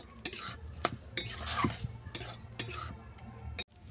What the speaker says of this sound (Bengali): এর মধ্যে আমি চালের গুঁড়িটা দিয়ে দিচ্ছি, দিয়ে একটা ডো বানিয়ে নেব।